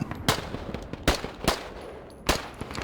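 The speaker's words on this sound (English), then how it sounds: "Even small machine guns can be effective used at distance with iron sights" Small machine gun in the military shooter Squad firing widely spaced single shots, four sharp cracks over a few seconds with quieter clicks and rustles between, moderately loud against low background noise.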